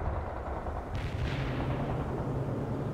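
Tank main guns boom in World in Conflict, heavy artillery-like firing over a steady dense battle rumble, with one sharper report standing out about a second in.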